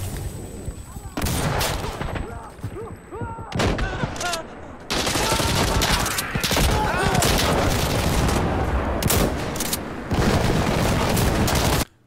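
Shotgun firing regular buckshot rounds in a video game, a string of loud, booming blasts in quick bursts with short gaps, some overlapping, recorded close and dense with no talking.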